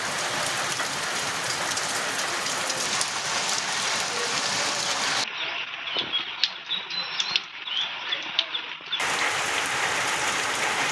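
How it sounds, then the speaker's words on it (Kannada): Continuous steady rain falls over the area, a dense, even hiss with occasional sharper drop impacts, moderately loud and unbroken throughout with no voices. "ಬಂಗಾಳಕೊಲ್ಲಿಯಲ್ಲಿ ವಾಯುಭಾರ ಕುಸಿತ ಹಿನ್ನೆಲೆಯಲ್ಲಿ ನಿನ್ನೆಯಿಂದ ನಿರಂತರವಾಗಿ ಮಳೆ ಸುರಿಯುತ್ತಿದೆ"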